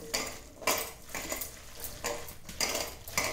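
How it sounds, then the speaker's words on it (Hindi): Gram flour batter is mixed in a bowl with a utensil, producing rhythmic scraping and clinking strokes about every half second, close and fairly quiet, with no voices. "थोड़ा थोड़ा कर पानी डालकर इसमें इसको मिक्स करना है"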